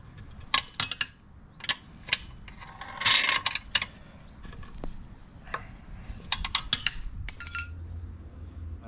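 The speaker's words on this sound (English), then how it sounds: "I'm trying to tighten this screw." Tightening a screw on a Kuat Base 2.0 bike rack, with irregular metallic clicks, clinks and ratcheting taps close by, alone without talk.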